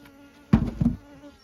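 Honey bees around backyard hives produce two short, close buzzing bursts in quick succession, then fall quiet against a faint background hum.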